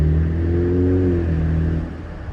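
A Ferrari engine revs hard while driving, a loud close rising and falling mechanical roar with a clear tonal whine, then easing off toward the end, with no talk over it.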